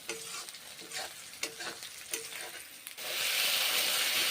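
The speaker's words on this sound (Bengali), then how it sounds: "পেঁয়াজগুলোকেও ভেজে নিচ্ছি।" Onions frying in a pan for a potol curry: spoon stirs tick and scrape against the pan at first, then a loud, steady, hissing sizzle takes over, close up and with no talking.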